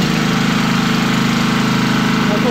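A small portable electric generator's engine runs at a steady idle, a loud, continuous, evenly pulsing drone close by with no talk over it.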